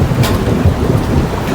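Heavy rain pours steadily outdoors, a loud dense wash of noise with a low rumble that fills the whole short stretch.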